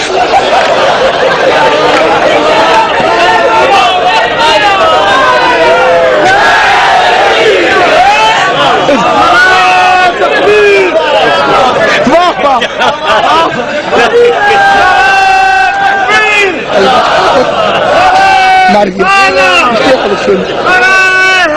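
Crowd at a religious jashan celebration in Multan chanting slogans loudly and continuously in unison, with dense overlapping voices and shouted calls throughout.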